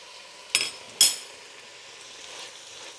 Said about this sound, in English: I'm gonna let that onion cook down for about 3 minutes